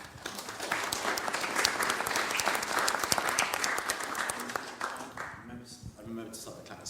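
Audience applause at a purpose and diversity summit after opening statements, a broad steady clapping that thins toward the end as voices start to come through.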